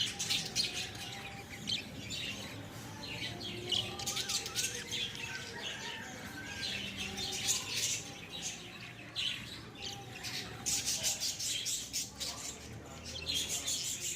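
Lovebirds and budgies fill a large colony aviary with continuous overlapping chirps, tweets and squawks, a busy, moderately close chatter throughout with occasional wing flutters.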